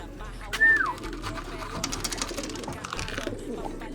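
Pigeons cooing softly in their cage, a brief close call near the start followed by quieter murmuring and rustling.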